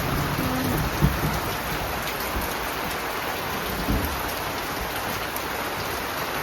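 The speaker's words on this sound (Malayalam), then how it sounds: "പ്രതീക്ഷിക്കാത്ത മഴയാണ്" Steady unexpected rain falls at a home, a constant close hiss of drops hitting surfaces, with a couple of soft thumps and no talk.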